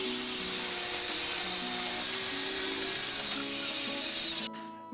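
A saw cuts through the top of a steel door, a continuous close grinding rasp with shifting tone that stops abruptly near the end.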